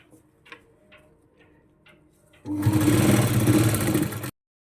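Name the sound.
sewing machine stitching folded blouse fabric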